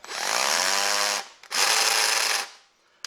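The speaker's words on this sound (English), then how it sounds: "then you got hammer, which I don't know if you'll be able to tell the difference here, but yeah, you can hear that." An SDS hammer drill runs in hammer mode, boring into concrete with a loud, harsh, buzzing rattle. It goes in two strong bursts with a short pause between them, close up and without speech.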